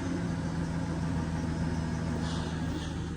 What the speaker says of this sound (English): It's just one of the pulleys at the front is squeaking and it's driving me nuts.